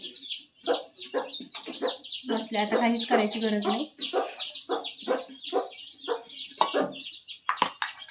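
A mother hen clucks over her newly hatched chicks, repeated soft clucks and chick peeps close by, with a person talking over them throughout.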